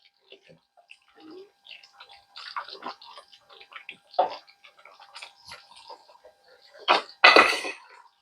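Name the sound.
stirring egg curry in a pan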